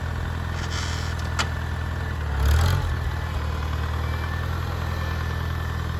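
A 1949 Farmall Cub tractor engine runs in reverse, a continuous low rumbling idle with a light metallic hum on top and a short rise in loudness partway through.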